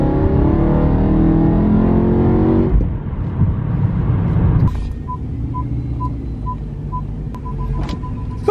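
A BMW M3 engine drones loudly up close, then its pitch drops as the driver downshifts into third and the car pulls again with a steady, strong engine note.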